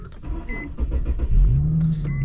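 An Infiniti G37 with its stock exhaust starts up inside the car: a short whir, then a steady low engine rumble that rises and settles into idle, close and fairly loud with no talking.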